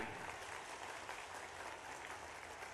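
Dense, steady applause from a large crowd at a political rally in Bhitarwar, Madhya Pradesh, continuous and even throughout, heard from a distance.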